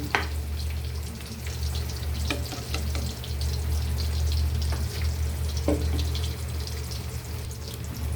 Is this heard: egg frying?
yes